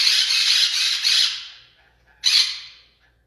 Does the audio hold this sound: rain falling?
no